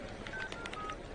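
Telephone keypad dialing, a short run of several distinct tone beeps in quick succession, faint and alone over quiet background.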